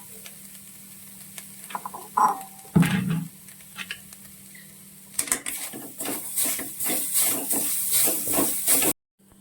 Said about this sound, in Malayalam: തേങ്ങ നമുക്ക് ആദ്യം വറുത്തെടുക്കാം.